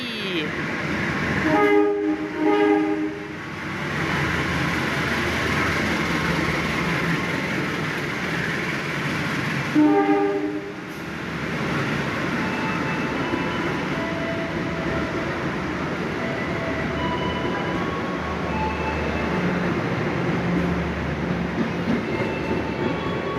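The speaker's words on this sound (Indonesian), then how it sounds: "Pasundan dari Surabaya Gubeng tujuan akhir Kiara Condong. Lokomotif WNB." Pasundan passenger train hauled by a WNB locomotive passes at close range in Indonesia, a loud sustained rumble of wheels and carriages with two horn blasts early on, while a voice talks faintly underneath.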